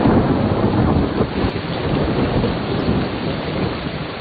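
A strong thunderstorm, with heavy rain roaring steadily and deep thunder rumbling underneath, loud and continuous throughout, with no voices.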